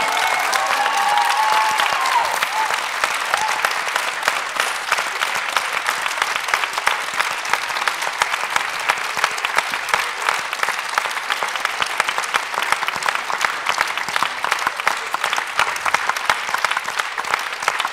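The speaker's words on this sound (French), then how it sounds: "Vous avez bien raison de les applaudir." Long, sustained applause from an audience for young people standing up at a debate event on the Resistance, dense even clapping that holds steady throughout with faint crowd murmur.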